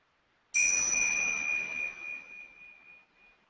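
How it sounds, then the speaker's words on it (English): A meditation bell is struck once and rings out clearly, a bright sustained tone that slowly fades over a few seconds in an otherwise quiet space. "we're going to close our eyes and listen to the bell"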